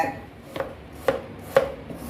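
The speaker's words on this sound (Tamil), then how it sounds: "வெங்காயத்தை பொடி பொடியாக நறுக்கிக்கிடுங்க" A knife finely chops onion on a board in four sharp, evenly spaced strokes, close up and fairly quiet, with no talking.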